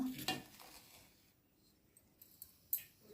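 A pot of cabbage set onto a stove with a sharp metallic clank near the start, followed by quiet kitchen noise and a couple of lighter clinks toward the end.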